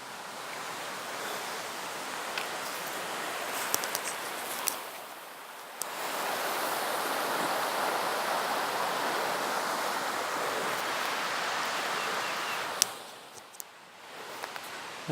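Wesser Creek in the Nantahala National Forest flowing beside a trailside camp spot, a steady broadband rush of water that swells louder midway, with faint scattered ticks and rustles, no talking.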